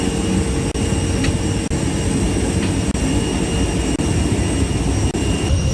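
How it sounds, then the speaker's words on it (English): Jet engines of a Boeing 747-400 cargo plane at Bandaranaike International Airport, Sri Lanka, a loud, steady, broad roar and hum filling the whole clip with brief regular dropouts, no voices. "A large Boeing 747-400 cargo plane carrying a consignment of aid valued at 400 million rupees and donated by the People's Republic of China for the disaster-affected people in the country arrived at the"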